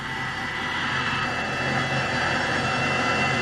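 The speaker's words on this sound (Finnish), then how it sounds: "kuunnelkaamme pienen hetken tuota V10 Mercedes-moottorin mylvintää" Mercedes V10 Formula 1 engine heard from an onboard camera, a steady, loud, high-pitched roar that holds at a constant pitch without breaks for the whole stretch.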